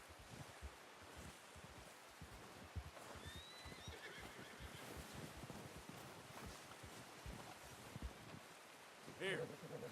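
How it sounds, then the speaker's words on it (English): In Red Dead Redemption 2, a horse whinnies in a short, high call amid hoof clopping, rustling and wind, with a voice speaking over the scene. "Horsey."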